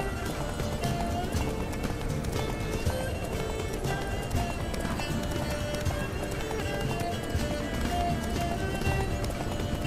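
Hooves pounding steadily as a horse gallops in The Witcher 3 video game, a continuous rapid clip-clop rhythm, loud and close, mixed with game music and ambience.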